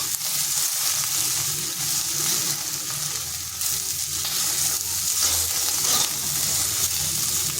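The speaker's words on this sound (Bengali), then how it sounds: "ঢেঁড়সগুলো ভাজা হয়ে গেছে" Okra frying in hot oil in a wok, a steady, loud, broadband sizzle that crackles continuously throughout with occasional stirring, no voices.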